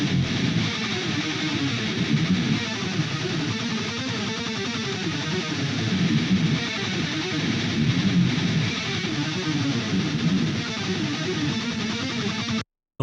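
Distorted electric guitar tone shaped by dynamic EQ that tames harsh resonances and whistles, played steadily and loudly on its own for about twelve seconds before cutting off abruptly.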